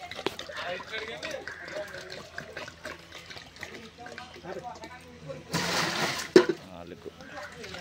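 A fourth bucket of filtered water splashes into a biryani pot on a wood-fired stove, a low running pour with a louder gush near the end, while a person talks over it.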